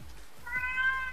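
A cat gives a single drawn-out meow, moderately loud, over a low background of game audio and faint voices in an online multiplayer war game session.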